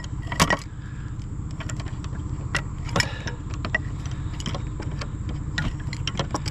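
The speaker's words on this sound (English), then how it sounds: "Jeep is really noisy right now." A noisy Jeep engine gives a steady low rumble throughout with a rough, pulsing idle, broken by scattered clinks and metallic taps close by.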